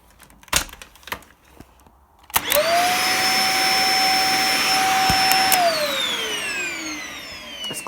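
After a few clicks and knocks, a Dyson DC50 vacuum cleaner switches on and runs loudly with a steady high-pitched whine, then the whine falls in pitch as the motor winds down after repair.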